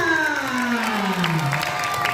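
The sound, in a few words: audience applause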